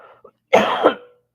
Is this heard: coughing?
yes